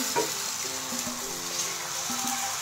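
Amboli batter sizzling as it spreads across a hot pan, a close, steady frying hiss with faint clinks and low background voices underneath.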